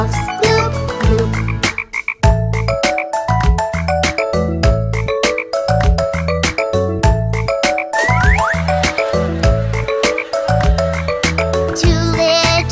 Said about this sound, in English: Then there were two green speckled frogs.